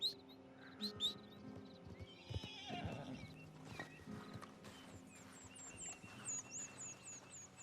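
In the video game Red Dead Redemption 2, a horse snorts and whinnies, then hooves clip-clop in a slow walking rhythm, with birds chirping faintly in the background.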